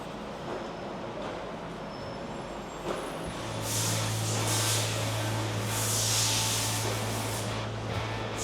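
Steady hiss of undercoating sprayed onto a scraped, cleaned truck frame in a shop, starting about three seconds in over a low hum and continuing loudly to the end, with broad airy bursts.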